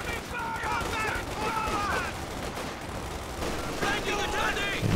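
Rapid machine gun fire from a Company of Heroes 2 battle rattles on steadily, mixed with distant shots and explosions under chirpy in-game voice chatter.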